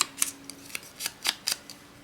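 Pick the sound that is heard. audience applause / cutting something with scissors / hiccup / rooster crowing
cutting something with scissors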